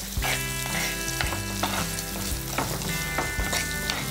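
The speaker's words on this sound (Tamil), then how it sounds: "ஸோ வெங்காயம் ஓரளவு வதங்கிட்டுருக்கு," Onions sauté in a pan with a dense, continuous sizzle up close, broken by repeated clinks and scrapes of a spoon stirring against the metal.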